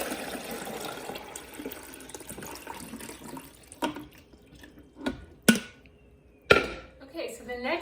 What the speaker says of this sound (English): We're going to pour the water in the back of the coffee pot.